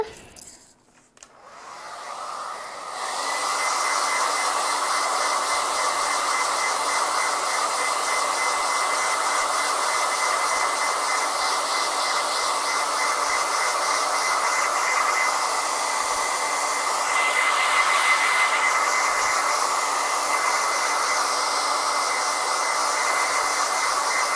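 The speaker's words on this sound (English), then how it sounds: "I'm just going to go in and blow dry this so that we can layer." A hair dryer blow-drying chalk paste on a craft project switches on after a brief quiet start, then blows as a loud, steady whoosh close by, shifting slightly in tone.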